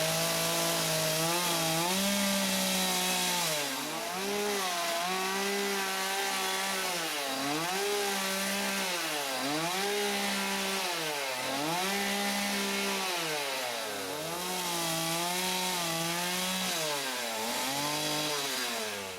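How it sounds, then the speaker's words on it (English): A chainsaw is used to plane the top of a log flat for a bench, running close and loud for a long stretch, with its engine pitch rising and falling in repeated cutting passes. "I will do what's called planing with the chainsaw"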